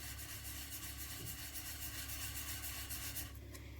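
Steady, rhythmic rubbing of fine wet sanding on a polymer clay pendant close by, a soft continuous gritty scrape with no talking.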